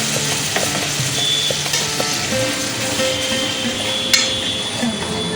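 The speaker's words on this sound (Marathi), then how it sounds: "आणि छान परतून घेऊया त्या तेलामध्ये" Green masala paste fries in oil with softened onion and tomato for a village-style matki usal, making a continuous close sizzle with occasional light knocks and scrapes of a spoon in the pan.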